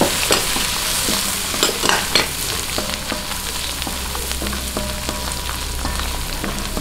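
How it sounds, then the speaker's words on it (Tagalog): Onion, mushroom and mixed vegetables sautéing in a pan, giving a steady, dense sizzle throughout with repeated scrapes and knocks of stirring, close and without talk. "Gisa-gisahin lang po natin."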